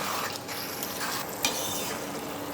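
Paneer jalfrezi stirred in a frying pan, a continuous gentle sizzle under soft scraping strokes and one small clink, close and fairly quiet, no speech.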